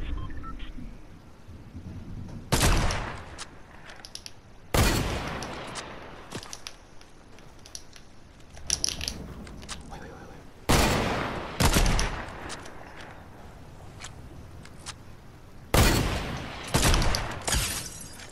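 Fortnite gunfire rings out in short, sharp bursts, several loud volleys and single shots spread irregularly with quieter gaps between, some up close and some trailing off.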